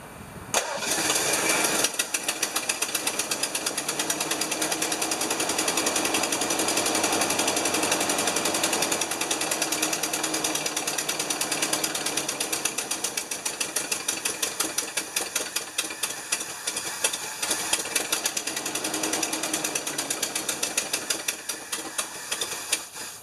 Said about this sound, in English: You can hear the vacuum leaks.